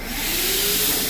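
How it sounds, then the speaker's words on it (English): A vacuum cleaner sucks debris from the floor of a 53-foot dry van trailer, producing a loud, steady, unbroken whining roar from start to end with no talking. "Pretty good vacuum cleaner."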